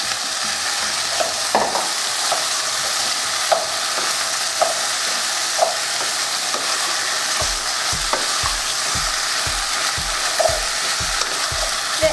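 Steady sizzling of potatoes, beets and green onions sautéing in a pot, with occasional soft stirring clicks and, later, a rapid series of low thumps near the end.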